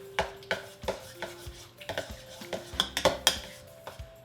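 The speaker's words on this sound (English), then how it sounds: "I have my roughly mashed sweet potato here. I am going to add 1 egg. I'm gonna get those two ingredients combined." Mashed sweet potato and a raw egg being stirred together in a bowl for waffle batter, a utensil clinking against the bowl in a steady rhythm of sharp taps, close and clear, with no talking.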